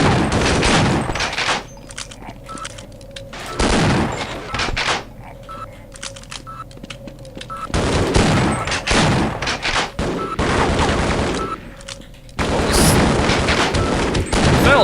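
Repeated bursts of video-game gunfire and a grenade blast, loud and dense, coming in several heavy waves that are separated by quieter stretches of low rumble.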